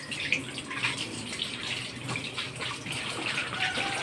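Tap water runs steadily into a sink while dishes are being washed, a continuous splashing hiss with faint clinks of crockery and no voices.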